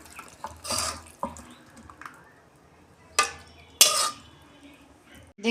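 Fish curry made with mixed vegetables is poured out of a pot, with sharp scraping and clinking of utensils, splashes and drips in short separate bursts close by.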